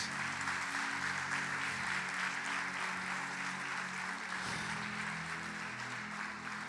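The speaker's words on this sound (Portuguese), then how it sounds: "aplauda bem forte Jesus" A church congregation at a celebration service applauds loudly and steadily for Jesus, a dense wash of clapping that holds for several seconds with organ or keyboard tones sustained underneath.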